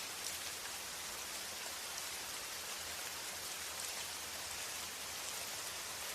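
Gentle rain falling steadily, a soft, even hiss of drops without gaps or louder bursts, faint and distant, with no voices.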